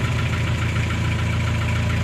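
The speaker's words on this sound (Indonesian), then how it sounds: "Sekarang kita gas dulu." Old Daihatsu Delta truck engine running steadily while warming up, a loud continuous low rumble with a slightly knocking texture and no noticeable rise in revs.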